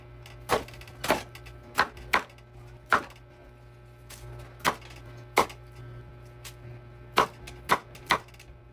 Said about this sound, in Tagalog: tapos ko nang hiwain yung mga gulay